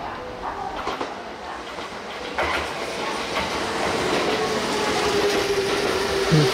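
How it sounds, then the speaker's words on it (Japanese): At Tsuruhashi Station, Kintetsu express 6524 bound for Osaka-Uehommachi passes close by, its rumbling wheels and rail clatter building steadily louder over a few seconds. "6524列車、大阪上本町行き急行です。"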